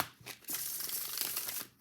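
Flexible Llewellyn cardstock of a Mermaid Tarot deck, slightly bent and without gilded edges, riffling in a close, continuous papery crinkle that swells after a brief pause and runs alone.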